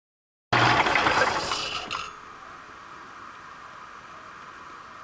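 A Caterpillar pump extension part chatters loudly against the cutting tool on a machine, a harsh grinding rattle for about a second and a half, then settling into a steady machine hum.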